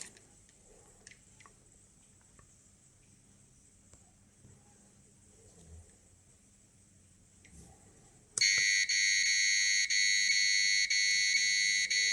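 A loud, harsh electronic alarm from a dosimeter (Geiger counter) beeps in rapid pulses, starting abruptly after several seconds of quiet room noise and continuing steadily to the end.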